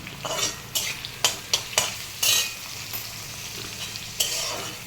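Tomato and onion fry in a pan with a steady sizzle, broken by several sharp, close scrapes and knocks of a spoon stirring the mixture.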